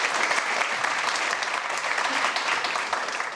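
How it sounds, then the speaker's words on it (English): A crowd applauds a speaker introduced at the LaunchBox 2023 startup event at Dogpatch Labs, giving dense, even clapping that stays loud and steady throughout with no talk over it. "Let's give Lizzie a big round of applause."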